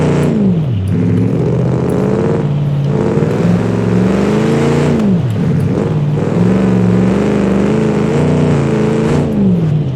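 A loud engine of a 1946 Summit WT car in the game Automation revs repeatedly up close, its pitch climbing and dropping through several sharp throttle blips and gear changes.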